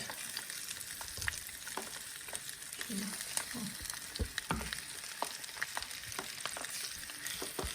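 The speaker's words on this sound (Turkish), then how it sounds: "kızardıktan sonra mantarlarını ekliyoruz" Steady hiss and crackle of oyster mushrooms sizzling in a hot pan, with occasional clinks and scraping as they are stirred.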